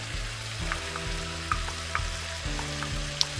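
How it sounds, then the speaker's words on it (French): Cauliflower and spring onion sizzle steadily in a hot pan for chicken with vegetables and rice, with a constant close frying hiss and a few soft clicks of stirring, and no voices. "Ce qu'on va faire, c'est mettre les choux-fleurs et l'oignon cébette."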